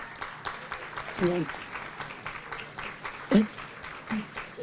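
An audience applauds faintly at an outdoor groundbreaking ceremony for permanent supportive housing in Louisville, a soft, steady patter running under a speaker's voice.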